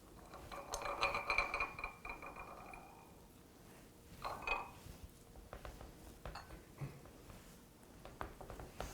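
Clams clatter and clink as they are dropped into a metal paella pan in a wood-fired pizza oven, a quiet burst of shell-on-metal rattling followed by softer scattered clicks.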